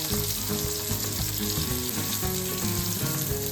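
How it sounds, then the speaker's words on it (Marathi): Bombil (Bombay duck) fish fry in oil in a pan, a loud, continuous sizzle with crackling close by, while a low tonal hum runs underneath. "दोन्ही बाजूनी आलटून पलटून त्याला शेकून घ्या आणि शिजवा"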